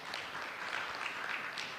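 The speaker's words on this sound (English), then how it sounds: "please give him a big round of applause." An audience at a national civil society convention applauds, steady and fairly distant, a brief continuous patter of many hands with no voices on top.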